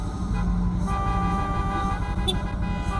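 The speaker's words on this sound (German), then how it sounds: "Kann ich auch hupen?" Car horn honks amid steady road and engine noise inside a car driving through city streets on the night Italy won the Euros, with a voice talking over it; the horn blends into the continuous traffic drone.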